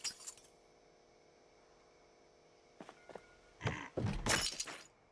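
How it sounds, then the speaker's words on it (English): Broken glass being knocked out of a window in Project Zomboid, a few light taps followed by a loud cluster of shattering, clinking crashes near the end, with an earlier short burst at the start. "Remove broken glass."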